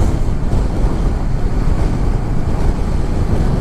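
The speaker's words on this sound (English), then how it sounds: "it's a bit windy" Steady broadband wind buffeting the microphone of a 2016 Honda CB500X motorcycle on a cold daylight commute, a continuous loud roar of rushing air with no speech.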